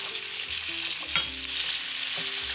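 Garam masala spices and aromatics being stirred in a hot pan give a steady sizzle and fry with a few scraping turns, fairly close and continuous.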